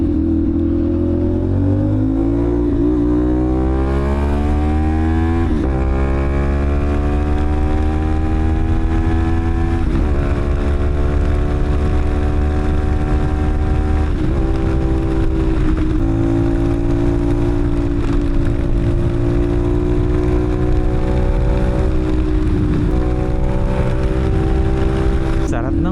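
An old car's engine drones steadily while driving, its pitch rising and settling as it speeds up, with a constant low rumble and road noise throughout.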